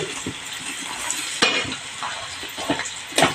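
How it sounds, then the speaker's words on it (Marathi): Steady sizzling of chili powder and goda masala frying in hot oil, with occasional scraping and clinks of a spoon stirring the pan. "आता आपण हा मसाला चांगला परतून घेऊया"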